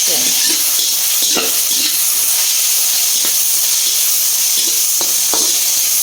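Chopped tomatoes sauté in a hot pan for a chicken dish, giving a loud, constant sizzling hiss with scattered stirring scrapes and clicks, close up, with no talking.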